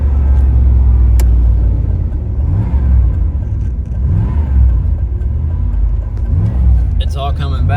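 A 1988 Chevrolet Camaro IROC-Z with a five-speed manual being driven, heard from inside as a loud steady low engine rumble with gentle rises in revs, and a voice comes in at the very end.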